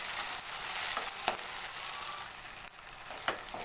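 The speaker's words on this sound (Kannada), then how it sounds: "ನೋಡಿ, ಚೆನ್ನಾಗಿ ಫ್ರೈ ಮಾಡ್ಕೋತಾ ಇದ್ದೀನಿ." Brinjal frying in a pan makes a soft continuous sizzle, fairly quiet, broken by a few brief scrapes and taps of a utensil, with nobody speaking.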